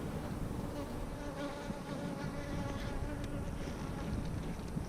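Honey bees humming in a dense, continuous buzz at an opened Apimaye hive, close and even in level throughout with no voices.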